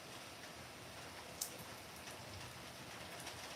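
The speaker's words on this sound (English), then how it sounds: "Oh, the rain." Steady rain falling, a constant soft hiss of drops on surfaces, fairly quiet and continuous with one brief tap, no one talking.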